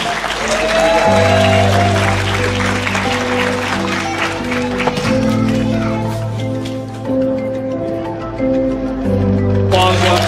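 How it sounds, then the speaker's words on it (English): An audience at a town hall gathering applauds steadily for about ten seconds, the clapping laid over a loud sustained musical drone with a few brief voices. "Let's give them another round of applause"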